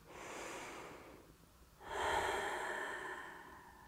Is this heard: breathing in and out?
yes